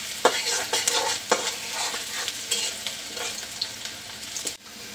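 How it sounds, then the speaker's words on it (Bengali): Onions fry in hot oil until browning, a continuous crackling sizzle broken by regular scrapes and taps of a spatula stirring the pan, close and fairly loud. "পেঁয়াজগুলো ভেজে বাদামি করে নিই।"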